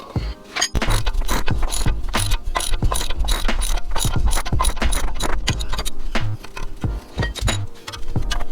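Ratchet wrench turning a T40 Torx bolt while lowering a BMW, a continuous run of rapid close clicks and metallic ratcheting that carries on steadily with only brief pauses.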